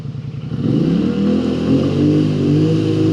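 A Polaris Sportsman High Lifter ATV engine idles roughly in mud, then revs up and holds a loud, throaty growl with a rattling, uneven pulse.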